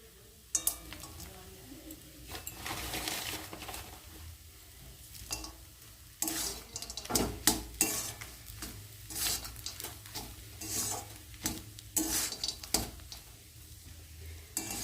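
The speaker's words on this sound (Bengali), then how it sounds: "পুরটা এবার আমি হালকা করে ভেজে নেব ভালো করে ভেজে নিয়েছি" Potato filling for spinach puris fries in a pan while being stirred, giving a soft steady sizzle broken by repeated scraping and stirring bursts, close and moderately loud, with no talking.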